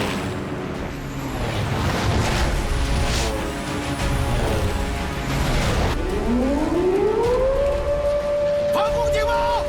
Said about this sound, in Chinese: 防空警报，各就各位